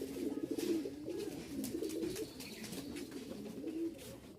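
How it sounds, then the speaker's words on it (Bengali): A pair of Rajshahi Giribaz high-flying pigeons coo in soft, continuous rolling phrases nearby, a low throaty burble that runs through the whole stretch with no one speaking. "হাই ফ্লাইং এর এক জোড়া কবুতর রাজশাহীর"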